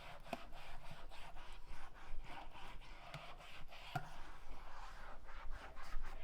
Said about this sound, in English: I'm also going to wet the magic eraser and apply the soap. Then I'm ready to scrub it down.